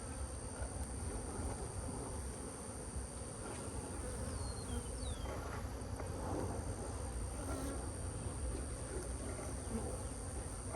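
Bees swarm around hive boxes at a cow pasture apiary while supers are being added, making a dense, steady buzzing hum that fills the whole stretch at a soft, constant level.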